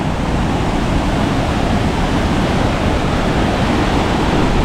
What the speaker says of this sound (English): Ah, but we can see another waterfall from here.